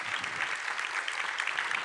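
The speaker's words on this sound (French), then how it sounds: "On vous applaudit à nouveau." Sustained audience applause closing a French public panel discussion on local authorities facing disinformation, a dense steady patter of many hands with no voices over it.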